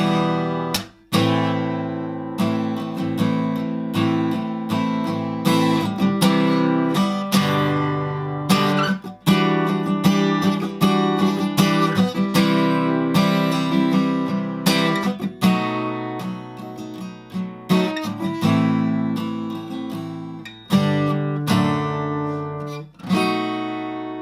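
Acoustic guitar strumming the chorus of a song in a steady, rhythmic pattern of chords, close and full, with no voice, running for about twenty-four seconds.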